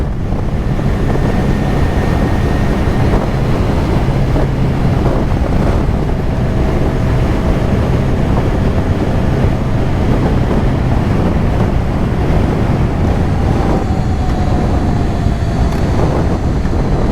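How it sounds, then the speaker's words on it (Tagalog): Constant, loud roaring wind buffets the microphone while riding a Kawasaki Z900 motorcycle, a dense unbroken rush with a low engine drone underneath. "Ang hangin, solid."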